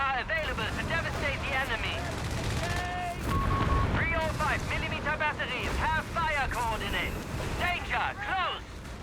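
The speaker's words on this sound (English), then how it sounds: "We have a strafe coming through though." A strafing run tears across a Company of Heroes 3 3v3 battlefield, with repeated bursts of gunfire and rumbling blasts over several seconds. A commentator talks throughout.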